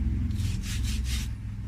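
Bristle brush scrubbing out a crack in a wooden stick being made into a cane, a few quick close strokes in a short rhythmic burst over a low steady room rumble.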